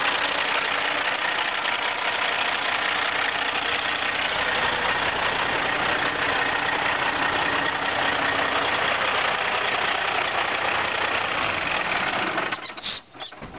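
A diesel engine idles steadily and close by, a dense even rumble that runs unbroken for about twelve seconds before it cuts off and leaves a few faint knocks.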